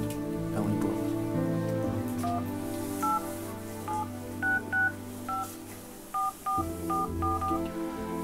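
A phone number being dialed on a mobile phone, a series of short, clear keypad tones in an uneven rhythm, about a dozen presses, over a quiet low background hum with no talking.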